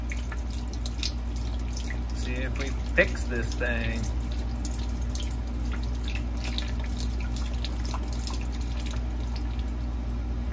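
Faint, irregular water drips inside a washing machine under a constant low mechanical hum, with a person speaking briefly partway through.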